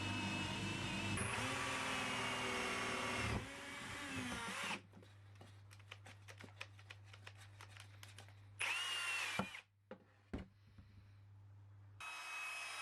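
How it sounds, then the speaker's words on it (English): A blunt 30mm Forstner bit in a power drill bores holes through two pieces of MDF, making loud grinding whirs in separate bursts. Between bursts there are quieter stretches with a low hum and scattered clicks. "Then I needed to drill out a hole in these two pieces of MDF, and that will be for the paracord to fit through."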